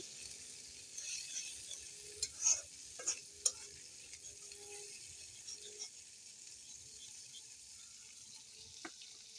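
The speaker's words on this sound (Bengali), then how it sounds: "সবগুলোকে ভালো মতো নেড়ে চেড়ে মিশিয়ে নেব" Noodles and spices get stirred in a pan with a soft scraping and a faint sizzle, plus a few sharper clinks of the utensil against the pan early on. The sound is quiet and close, with no talking.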